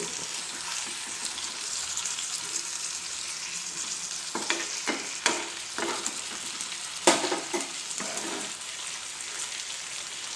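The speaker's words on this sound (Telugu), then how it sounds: "చేపల ఫ్రై రెడీ." Indian mackerel (ayala) fish fry in hot oil in a pan with a continuous close sizzle, punctuated by several louder sharp spatters and pops from about midway on, and no one speaking.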